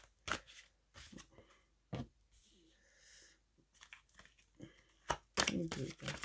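Tarot cards shuffled for a reading, a run of papery riffles and crisp flicks in short bursts, with quiet speech between them.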